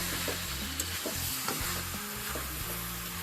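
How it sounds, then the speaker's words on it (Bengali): Goat mutton fries with turmeric and Kashmiri chilli powder, a loud steady sizzle under repeated scraping stirs of a spoon against the pan, close up and with no speech. "এবার ভালো করে মাংসের সাথে মিশিয়ে মাংসটাকে ভালো করে ভাজবো"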